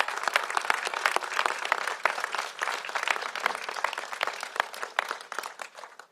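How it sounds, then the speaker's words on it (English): Audience applause at a civic gathering of city leaders in San Francisco, steady crisp clapping from many hands with sharp individual claps standing out, sustained for several seconds before thinning toward the end. "let's give him a big round of applause."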